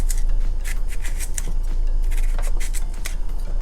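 A knife slicing Liberian garden eggs held in the hand, a run of quick crisp scraping cuts in close succession, near and fairly loud with no talk.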